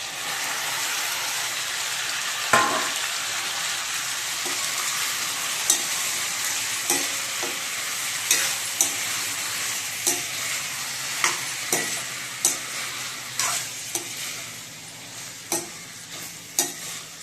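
Chopped tomatoes fry in a pan under a steady broadband sizzle for the whole stretch, with a spatula scraping and clacking at fairly regular intervals, the strokes growing closer together and louder toward the end; no one speaks.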